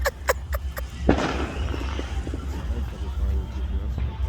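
A quick series of sharp firework pops followed by a louder crackling burst, heard outdoors near a road, with people talking over the noise throughout.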